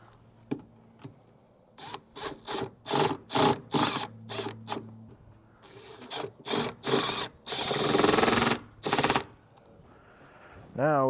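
A power drill drives screws down from the top into the front rail of a Retrax MX retractable bed cover on a Ford F250 Tremor, giving repeated short bursts of whirring with brief pauses between them, close by.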